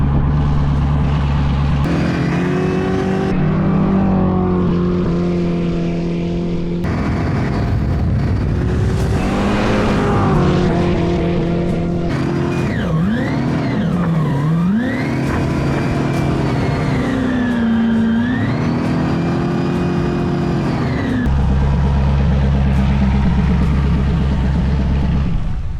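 A turbocharged LS V8 in a jet ski revs hard at speed, a loud continuous engine roar whose pitch rises and falls through the run.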